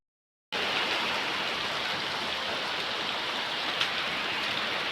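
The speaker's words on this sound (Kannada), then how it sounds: "ಇವಾಗ ಫುಲ್ ಜೋರು ಮಳೆ" Heavy rain starts abruptly and pours steadily, a dense, even hiss of downpour with no voices.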